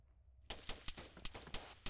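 Rapid bursts of gunfire and grenade blasts in the military shooter game Arma 3, a sharp onset followed by a quick string of loud, closely spaced shots and explosions with no talk.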